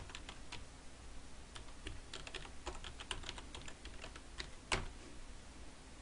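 Steady rapid typing on a computer keyboard, close and fairly quiet, with one sharper key strike near the end.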